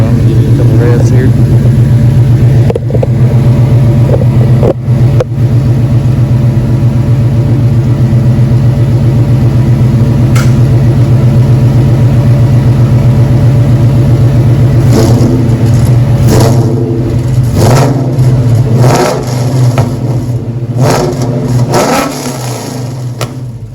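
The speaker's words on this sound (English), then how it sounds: "I'm going to give you a couple revs here." A Ford Coyote V8 engine in a swap with custom exhaust rumbles loudly at idle, then revs up several times in quick bursts to about 4,500 RPM, close by.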